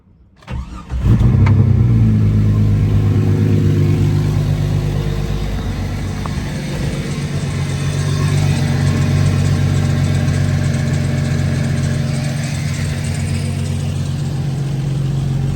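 A Jeep Cherokee 4.0L gas engine, filled with diesel oil, cranks briefly and catches, then settles into a steady, close, loud idle that holds without a break.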